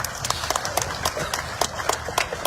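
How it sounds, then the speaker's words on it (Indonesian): Scattered clapping from an outdoor crowd at a road construction groundbreaking ceremony, individual claps sharp and uneven over a low rumbling background with murmured voices. "Tepuk tangan untuk Bupati dan Wakilnya."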